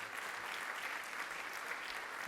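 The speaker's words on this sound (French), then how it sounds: "Et je voulais qu'on les applaudisse" Audience applause for the contributors at an inaugural show for the Mont-Saint-Michel works, a steady dense wash of clapping at moderate distance with no talk over it.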